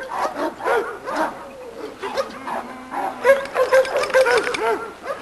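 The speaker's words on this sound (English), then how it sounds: "This is a little dog called Hit and Run." A small male dog barks in a yard, giving a string of short, loud barks and whiny yips close by, with some talk mixed in.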